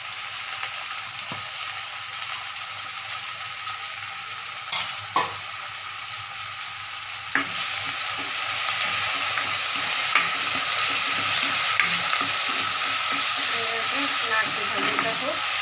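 Ghugni with capsicum, green chili and tomato sizzles in a pan while a spatula stirs it in scraping strokes, with occasional knocks against the pan; the frying grows louder and fuller partway through.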